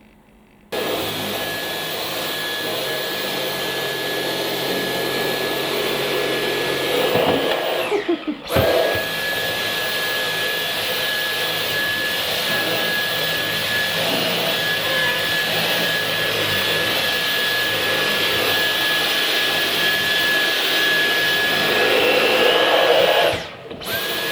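Dyson Cyclone V10 Absolute cordless stick vacuum running on carpet, a loud steady motor whine with a constant high tone, briefly cutting out midway and again near the end, no talking.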